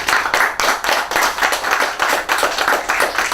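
Audience applause at an Apex Education graduation ceremony for the 2018 CSEC valedictorian, a fairly close, steady patter of many hands clapping with slightly pulsing intensity throughout, no voices.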